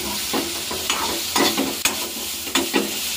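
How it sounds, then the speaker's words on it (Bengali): Hot water hits cooking meat in a pan, setting off sharp bursts of sizzling and bubbling hiss, with short stirring scrapes in between, close and fairly loud. "আর মাংসটার মধ্যে এখন গরম জল দিয়ে দেব।"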